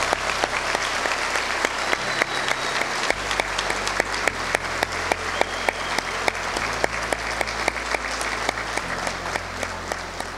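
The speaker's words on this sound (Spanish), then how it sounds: "Un aplauso para ellos." Steady, dense applause fills a university graduation ceremony hall as the audience claps for graduates, loud and continuous throughout with no talking over it.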